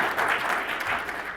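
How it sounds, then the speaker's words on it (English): Brief burst of audience applause at a talk on technology-driven rural transformation, a dense wash of clapping filling a hall. "So let's give him a big round of applause"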